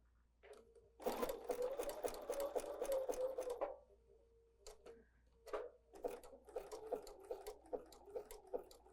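A sewing machine stitches fabric for a scrunchie in fast, close bursts of rattling needle strokes, with a pause near the middle and then shorter start-stop runs.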